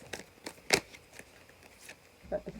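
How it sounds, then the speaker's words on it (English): Tarot cards being shuffled during a card reading, with quiet papery riffles and taps in a few short bursts, close and soft, with a muffled knock near the end. "Forget about shuffling on camera sometimes."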